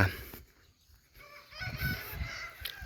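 Chickens on a farm cluck and honk in short bursts, a louder cluster building near the end against a quiet outdoor background, with no talking.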